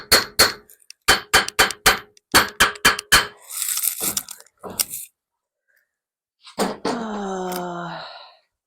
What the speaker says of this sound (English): I don't have a mallet, so I'm going to use the wrong hammer.